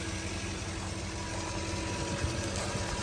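A Range Rover with a leaking radiator and overheating problem idles steadily after warming up, a constant low engine rumble with a faint high whine running through it, close and unchanging.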